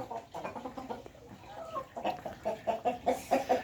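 Several black hens cluck in a steady series of short, rhythmic calls close by, growing louder and more regular toward the end, with a faint rooster-like note in the background.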